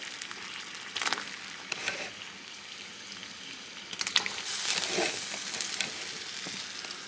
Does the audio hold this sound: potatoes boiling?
yes